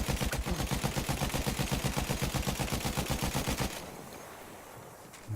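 Automatic gunfire in Battlefield 1, a loud, fast, steady stream of shots lasting several seconds before cutting off into quieter background noise.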